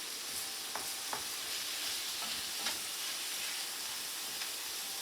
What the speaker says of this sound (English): The pan is starting to get dry. Stir this around.